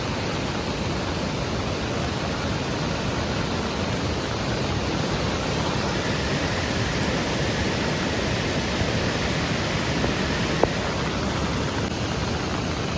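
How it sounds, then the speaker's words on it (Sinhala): Water spilling over from the Bowatenna reservoir rushes down the swollen Amban river during heavy rain, a steady, dense roar of flow that holds unchanged throughout with no voices. "මම ඕගලන්ට කලින් සඳහන් කරා බෝවතැන්න ජලාශයෙන් වාන් දාන ජලය තමයි මේ යන්නේ. මේ අඹංගඟ."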